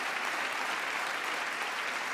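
An audience applauding during Joe Biden's State of the Union speech, a steady dense wash of many hands clapping, moderately distant and even, with no voices over it.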